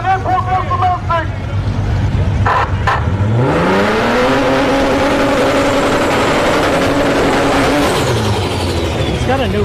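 A C4 Corvette and a Lexus with a 2JZ engine launch in a no-prep drag race at Orlando Speed World, engines revving loud and rising in pitch as they accelerate away, with crowd chatter and commentary over the roar.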